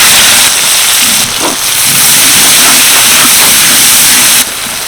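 Two medium onions, thinly sliced, frying in hot oil with whole cardamom, cloves and cinnamon for a broiler chicken curry, giving a loud, steady sizzle and hiss that runs throughout without any talking.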